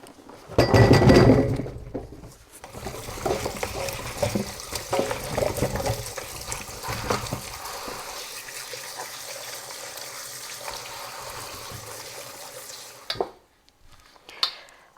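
Button mushrooms being rinsed in water to remove soil, with running water, splashing and light clinks from a bowl, loudest at the start then settling into a steady wet rustle before stopping near the end.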